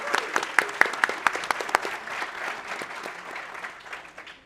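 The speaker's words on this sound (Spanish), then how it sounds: "por favor también démosle un aplauso" Audience applause at a panel on Peruvian gastronomy and arbitration, starting with sharp, close individual claps and then blending into a sustained, even patter of clapping from the crowd that fades slightly toward the end.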